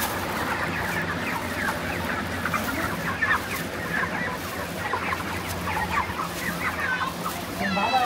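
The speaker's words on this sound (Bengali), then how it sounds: "এখানে প্রায় 600 মুরগি আছে।" A broiler poultry farm housing about 600 large chickens fills the air with dense, overlapping clucking and chattering from many birds at once, steady and fairly close throughout.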